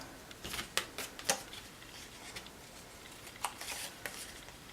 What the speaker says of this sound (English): take our scissors and right here and cut the extra pieces off